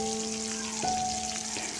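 Stuffed bitter gourd frying in hot oil, a close, steady sizzle with a faint tone underneath and light crackles, continuous and without speech.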